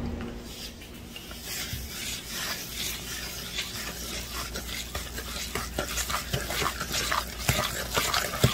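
Cornbread muffin batter being mixed in a bowl, a soft rhythmic scraping and stirring that starts quietly and grows louder and busier, with repeated utensil knocks toward the end.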